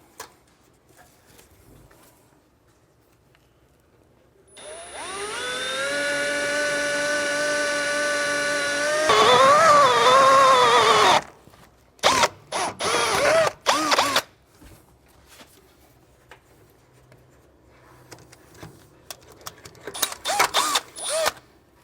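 A power drill bores a hole through the metal frame of a 2020 Forest River Georgetown trailer, a sustained whining drone that shifts pitch mid-way, then short bursts of drilling separated by quiet pauses.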